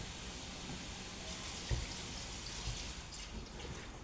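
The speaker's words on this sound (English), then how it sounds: "So I'm going to throw some more water in it." Steady running water splashes continuously into a pot of sorrel, like a stream being poured into a container, with a brief knock partway through.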